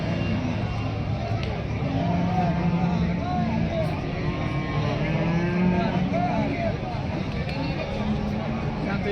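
Cows at a busy Thursday cattle market in Alephata, lowing intermittently against a constant murmur of crowd noise and distant activity, with people talking throughout.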